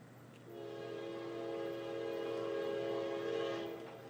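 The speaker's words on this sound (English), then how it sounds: "The first NS ballast train." Norfolk Southern ballast train sounding its horn, a steady chord held for about three seconds over a low engine rumble, moderately distant.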